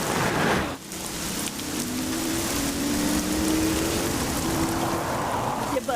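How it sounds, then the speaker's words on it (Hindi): Heavy rain pours steadily in a film scene, a dense, loud, continuous hiss of drops on surfaces with a brief dip near the start and a faint tonal hum running beneath. "एक तो आज बारिश भी बहुत तेज है"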